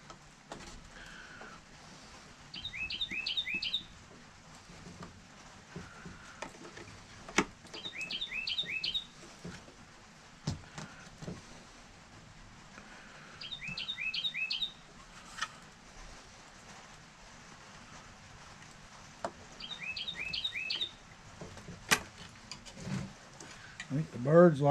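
Small birds outside in the rain give short, repeated chirp bursts at regular intervals, fairly faint and distant, beneath quiet workshop handling noises on a wooden model ship build.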